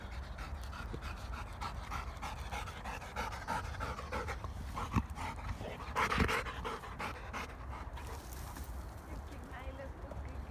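Rapid, rhythmic panting from Mona the dog as she runs outdoors, close and continuous amid footstep rustle and wind, with occasional human voices.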